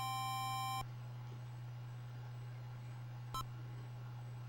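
Starting beep for a hurdles race in a game on an NES multicart, a single steady electronic tone that cuts off abruptly, followed by a brief click and a short blip over a constant low hum.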